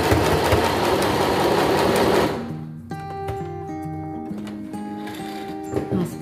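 Sewing machine stitching an elastic trouser waistband, a loud steady mechanical whirring for the first couple of seconds that then stops, leaving quieter hum and background tones.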